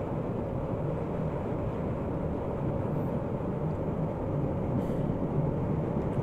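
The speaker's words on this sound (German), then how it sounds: "Nur da fährt ein Nahverkehrszug ein mit 151." Local train hauled by a class 151 electric locomotive pulling into a station in Train Simulator 2016, a steady, loud low rumble and rolling drone that holds evenly throughout with no voices.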